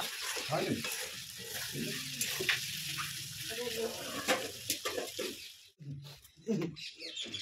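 Chicken kosha fries in a pan, producing a quiet sizzle broken by scraping stirs and bubbly spatters, with faint voices in the background.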